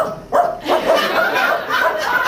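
A voice mimics a dog, giving a few breathy woofs and yapping barks up close, playful and somewhat laugh-like.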